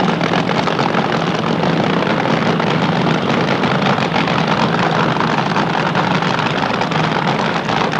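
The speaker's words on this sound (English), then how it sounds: "Listen to the cackle of the fuel-burning machines." Fuel-burning front-engined drag racing cars at a Palmdale raceway reunion, a loud continuous rough engine roar with a crackling edge filling the air, unbroken throughout and with no speech.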